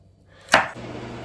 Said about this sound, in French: Je finis de couper les chicken wings.